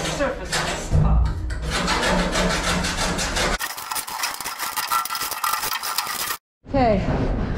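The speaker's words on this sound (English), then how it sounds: "So, this is the scraping and sanding part." Trailer surfaces being scraped and sanded during a conversion build: continuous rough, gritty rubbing and rasping, then a harsher, brighter grinding stretch that ends abruptly before scraping resumes.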